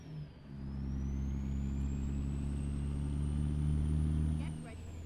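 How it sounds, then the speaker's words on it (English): A Peterbilt 389 truck in American Truck Simulator, its steady engine drone holding loud and close before the turbo spools down with a fading high whine at the end. "Oh, that was a cool sound as the turbo spooled down."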